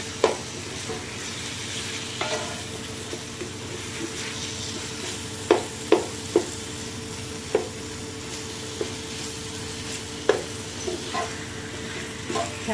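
Pandan leaves, tomato and green chili sizzle in hot oil for ghee rice, a constant close frying hiss broken by several sharp clinks and scrapes from stirring.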